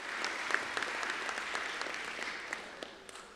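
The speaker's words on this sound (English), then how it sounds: "Let's give them a big round of applause." An audience at a school graduation ceremony applauds staff members with steady, moderately distant clapping that continues evenly throughout with a few sharper individual claps.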